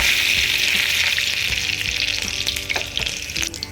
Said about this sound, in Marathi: तेल चांगलं गरम झाल्यानंतर त्यामध्ये जिरे आणि कढीपत्ता टाकायचा